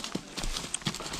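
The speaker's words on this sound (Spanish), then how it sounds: "estás viendo a Aurora, la potranca Aurora" Hooves of a young filly clip-clop on open farm ground in Coamo, Puerto Rico: a few scattered, moderately close hoof knocks over a steady outdoor background, with no voices.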